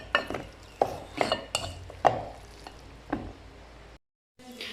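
Boiled potatoes are mashed with a hand masher in a pot, a series of irregular soft thuds and metallic clinks with squishing between them, close and fairly quiet.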